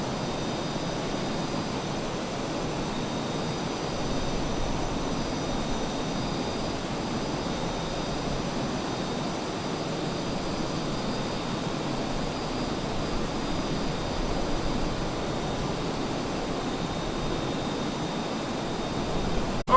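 A T-6 Texan propeller trainer flies in a flight simulator game, its engine a constant, even drone that holds unchanged throughout with no other sounds.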